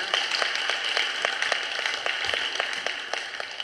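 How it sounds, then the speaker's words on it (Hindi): A group at a yoga weight-loss session applauds, with a steady wash of clapping and crisp, regularly spaced claps standing out, moderately loud and continuous. "तो उनके लिए जोरदार तालियां"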